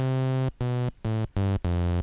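Default synthesizer oscillator tone in FL Studio Mobile plays as five short bright buzzy notes, each about a third of a second, separated by brief silences and stepping slightly in pitch.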